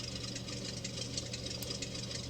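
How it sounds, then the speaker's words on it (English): Simulated engine idling and running from a driving sim video game, a steady low droning hum with a constant tone that holds evenly throughout, no voices. "engine sounds"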